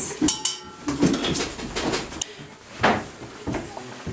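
A plate set down on a windowsill and knuckles knocking on the window glass in a Polish Christmas Eve folk ritual, giving a series of close clattering taps and knocks in an uneven rhythm.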